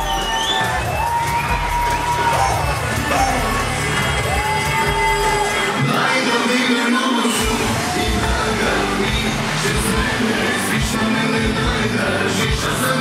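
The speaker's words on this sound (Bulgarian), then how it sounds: "Вашите аплодисменти, дами и господа, за нашите прекрасни младоженци." Wedding audience cheers and whoops for the newlyweds at a celebration in Ghent, a loud, continuous crowd roar layered over music with scattered shouts throughout.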